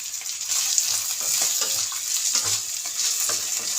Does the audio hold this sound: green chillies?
yes